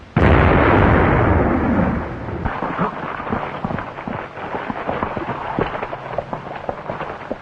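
A deep explosion booms from the mines at night, a loud, low roar that fades into a long rumbling, crackling tail lasting several seconds.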